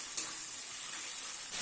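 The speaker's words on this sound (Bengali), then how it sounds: "এবার এটাকে ভালোভাবে কষিয়ে নিতে হবে" Spice paste for a doi katla fish curry sizzles and fries steadily in a pan, a soft continuous hiss with a faint stirring scrape near the start.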